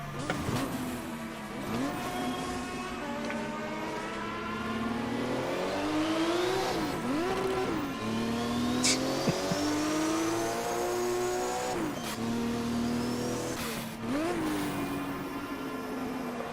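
Porsche 935 Group 5 race car in the Automobilista racing game, its engine revving and accelerating through repeated gear changes, a loud continuous drone rising and dropping in pitch with no voices over it.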